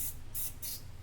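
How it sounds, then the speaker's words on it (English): Spray paint hisses from a can in three short bursts, each a crisp sharp spray separated by brief pauses, close and moderately loud. "if you spray a mid-tone over the top"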